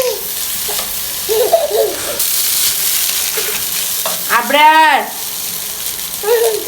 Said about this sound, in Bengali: এখন আমি ডিমটা ভালোভাবে সবজির সাথে মিশাই নিব